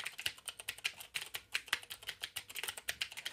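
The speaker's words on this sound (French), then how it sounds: "Le bruit des doigts sur le clavier et le bruit de cette interaction avec l'ordinateur" Rapid typing on a computer keyboard, irregular clattering keystrokes close up and fairly quiet, with no voices.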